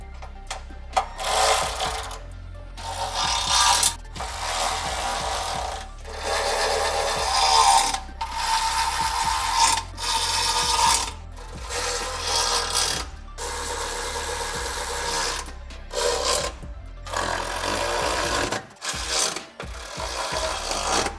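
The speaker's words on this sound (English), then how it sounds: "we can go ahead and work across the side of the frame rail to tighten all of these bolts down." A ratchet and socket tightening the rock slider bolts along the frame rail of a 2010–2024 Toyota 4Runner, heard as loud, close, continuous rapid mechanical clicking in long runs broken by brief pauses.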